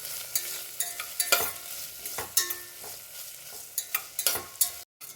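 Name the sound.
potato sautéing with onion in a pan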